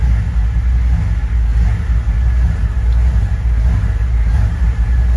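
A diesel truck engine idles after a long warm-up, with a low, loud rumble that lopes unevenly as a fuel injection pump fault makes the beat rise and fall steadily throughout.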